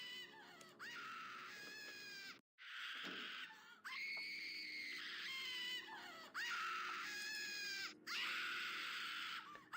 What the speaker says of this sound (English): As you approach, servants screaming,